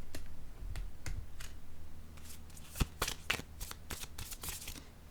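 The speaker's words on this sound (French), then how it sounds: "Je vais piger une carte noire." Playing cards handled and drawn from a deck, a run of soft close-up flicks and sharper snaps scattered through a quiet passage, with a faint voice early on.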